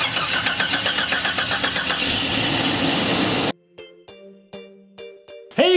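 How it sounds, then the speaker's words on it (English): A Jeep Cherokee engine struggles to start, cranking with a rhythmic pulsing chug for several seconds, then going quiet, with faint clicks and a brief sound at the very end. "Sulley's struggling to start a little bit."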